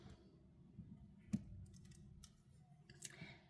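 Jewelry wire being snipped with cutters while making a beaded necklace, a single small, sharp click against quiet background, heard close and alone.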